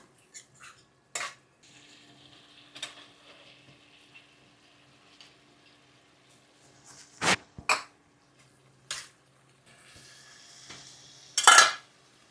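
Ingredients sautéed in a pan, with sporadic clinks and scrapes of a utensil against the pan and a faint sizzle between them, quiet overall with a few louder clatters near the end; no speech.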